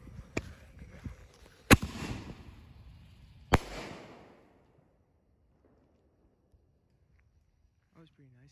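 Black Cat Black Box artillery shell fireworks burst with three sharp, loud booms, each trailing off in a rolling rumble that fades into near silence.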